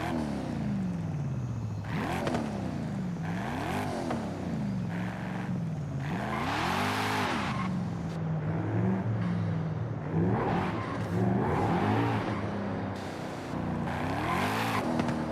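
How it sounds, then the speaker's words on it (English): A turbocharged car with a full exhaust in the Forza Horizon 5 racing game, its engine revving hard in repeated rising and falling sweeps, loud and up close, with gear shifts and brief lifts between pulls. "this is turboed, but you can tell from the exhaust note that it sounds so much different"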